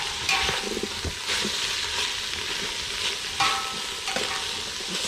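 Meat fries and sizzles in a pan on a Sasquatch wood-fired cookstove, a steady close hiss broken by occasional stirring scrapes and pops, with no talking.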